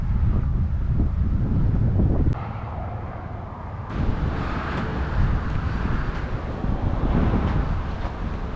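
Loud, steady wind buffeting the microphone while riding a Honda Africa Twin motorcycle on a long straight desert road north toward Alice Springs, a continuous roar with a brief dip midway.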